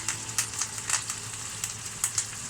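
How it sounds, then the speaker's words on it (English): Chicken frying in melting butter with lemon thyme in a pan, a steady close sizzle with crackling pops recurring every fraction of a second, no voices. "Give it a bit of a crack, give it a bit of a sizzle"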